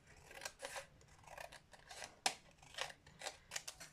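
Scissors cut a strip from paper scraps, a series of crisp close snips and slicing strokes in an irregular rhythm, with one sharper clack midway, quiet and alone.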